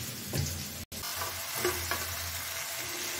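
Soybean chunks sizzle and fry in a pan with browned tomato and onion, with a steady frying hiss and a few scraping stirs. The sound is close and quiet, with a very brief dropout near the start.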